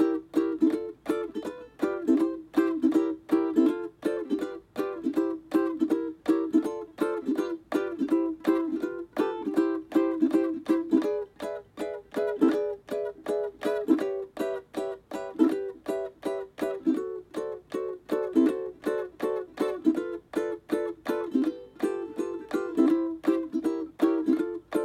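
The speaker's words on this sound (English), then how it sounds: "I'm gonna play an open chord in between every single chord," Swing-style ukulele strumming, with an open chord struck between every fretted chord throughout the song; steady, bright, rhythmic strums played alone and close up, with no voice.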